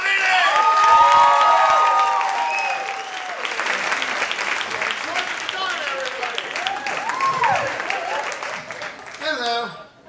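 A comedy-show crowd claps, cheers and whoops for a comedian, a dense, loud wash of applause with shouted voices over it that tapers off as a speaker starts talking.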